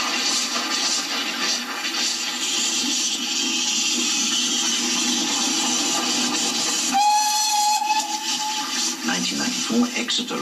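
A preserved 4MT steam tank engine on a special excursion along the Tarka line to Barnstaple rumbles past loudly and steadily, then sounds a long, shrill whistle in the middle, with a second shorter toot near the end.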